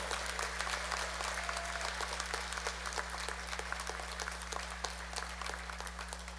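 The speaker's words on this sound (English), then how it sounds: "Please give a tremendous round of applause." Audience at a University of Guyana convocation applauds an honorary doctorate recipient, a sustained, dense wash of many hands clapping steadily throughout, moderately loud over a low hum.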